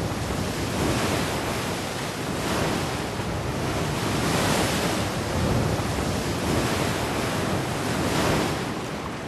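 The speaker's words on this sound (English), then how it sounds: "the waters of the Drake Passage, which extend for 800 kilometers to the Southern Ocean" Ocean waves roll through the open waters of the Drake Passage near Antarctica, a loud, continuous roar of surf rising and falling in slow surges, mixed with heavy wind buffeting.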